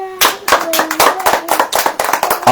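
A church congregation claps hands together during a Hindi sermon, a loud, dense burst of many palms striking in quick irregular rhythm, with a voice briefly heard underneath at the start.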